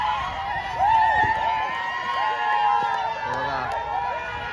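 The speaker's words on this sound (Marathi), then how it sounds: "बघा जल्लोष बघा" A distant crowd at a village cricket tournament cheers and shouts in celebration of a team's win, a steady roar of voices with excited calls rising above it.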